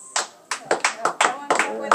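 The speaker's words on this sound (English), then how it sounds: "Can I borrow an applause?" A small group claps at a birthday party in an Italian restaurant, a quick irregular run of distinct, fairly close hand claps from a few people rather than a big crowd.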